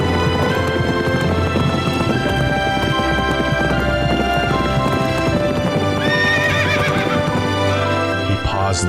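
Galloping hooves and a loud horse whinny sound over a dense, dramatic musical score that fills the whole stretch, with a spoken voice woven in.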